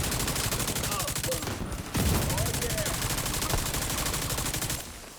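Sustained heavy gunfire from an enemy's powerful weapon in The Division 2, dense rapid shots continuing for several seconds with a voice talking over it.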